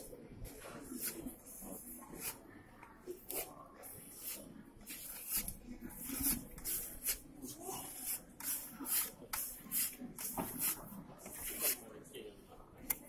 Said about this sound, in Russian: набираем немного количества материала на шпатель, берем обычную трапецию, материала минимальное количество и аккуратно разноплановыми мазками начинаем наносить